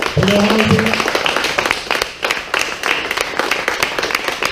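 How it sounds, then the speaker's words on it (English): A crowd applauds a group of gentlemen at an IBEW Local 86 Code War 2022 event, steady clapping filling the room for several seconds, with a few voices briefly audible near the start. "please give these gentlemen a round of applause"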